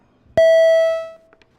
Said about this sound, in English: if we could ring the bells